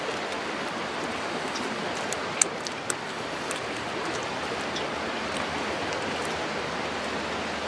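Steady rain falls outdoors at a bushcraft camp, a constant soft hiss of drops with occasional sharper ticks of drops hitting nearby surfaces, with no talking.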